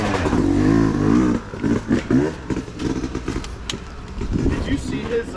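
A motorbike engine revving hard while riding through mud and snow, a loud droning rev that drops off and returns in uneven bursts as people talk over it.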